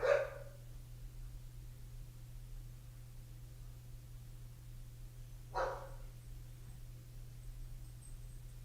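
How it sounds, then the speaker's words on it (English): A neighbor's dogs give two short, faint barks several seconds apart, somewhat distant, over a steady low electrical hum in a quiet room. "my neighbor's dogs are here"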